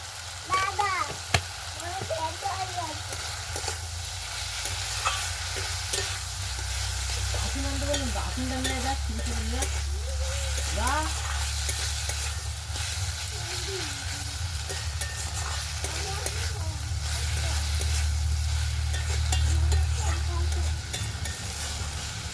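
Curry sizzles in a pan with salt while being stirred, a steady close frying hiss broken by scraping strokes, with a low rumble underneath and occasional voices in the background.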